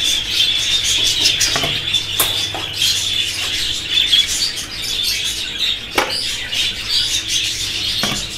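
Pet budgerigars chirping and tweeting continuously during feeding in a cage holding eggs, bright close chatter with occasional sharper calls and soft rustling, steady and fairly loud.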